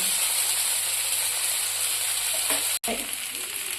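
Oil sizzles steadily in a pan as thalipeeth, a flatbread, fries, a continuous bright hiss with a brief dropout near the end and no talking.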